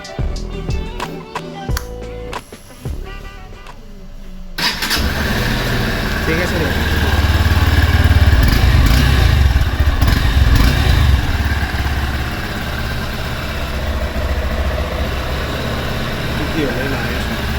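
A Honda CBX motorcycle engine starts after a few seconds and then idles with a steady, rough rumble close by. People talk briefly before the engine catches.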